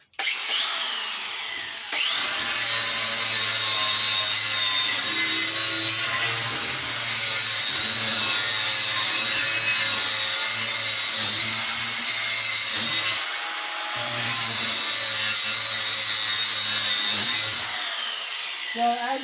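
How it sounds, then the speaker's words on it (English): A power grinder works a homemade spear with a loud continuous abrasive whine and rough grinding texture, pausing briefly twice before starting again. "So we'll get to grinding"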